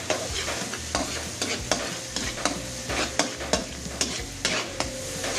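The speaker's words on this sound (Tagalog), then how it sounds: "Ilalagay na po natin ang ating bawang." Garlic frying in a pan for roast beef with vegetables, a continuous crackling sizzle broken by regular, sharp scraping stirs of a utensil, close and clear with no voices.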